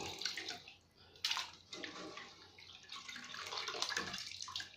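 Pickled mustard greens rinsed by hand in water, giving close, steady splashing and sloshing with intermittent louder swishes as the leaves are stirred and lifted.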